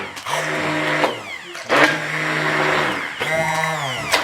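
A blender whirs through cauliflower and egg at speed 4, its motor whine steady and loud, dipping and surging in pitch a few times over the few seconds.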